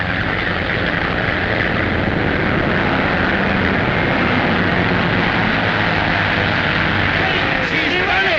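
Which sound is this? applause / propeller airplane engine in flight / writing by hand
propeller airplane engine in flight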